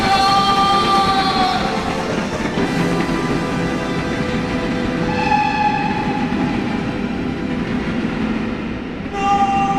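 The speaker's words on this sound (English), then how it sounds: "Stop the train's approaching the Reichenbach tunnel!" In an audio drama, a train nears the Reichenbach tunnel as a steady, loud rumble and rattle of rail cars with sustained whistle-like horn tones rising and fading over it throughout.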